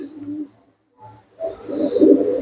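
Pure-bred flying pigeons coo softly in short low bursts, close and fairly quiet, with brief silences between the calls and a rougher stretch of cooing at the end.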